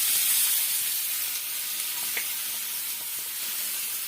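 Onions and curry leaves sizzling in hot oil in a pan while cooking a Kerala clam roast, a steady bright hiss with faint crackles throughout, close and moderately loud.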